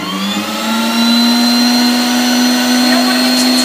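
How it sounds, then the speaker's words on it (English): An electric mixer blends tart ingredients for strawberry lemon curd tarts, a loud, close, steady motor whine that rises slightly in level after the first second and keeps going. "I'm going to turn the mixer on and get that going right now"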